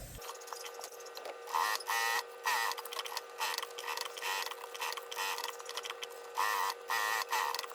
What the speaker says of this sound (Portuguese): já faz uma costurinha na bordinha aqui, ó, pra refilar o excesso do forro